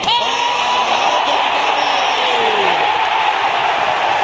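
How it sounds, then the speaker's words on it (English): A large crowd cheers and roars at Adelaide Oval during a cricket match, loud and sustained, with whoops rising above the din and a commentator talking over it. "The crowd are into it here at the Adelaide Oval."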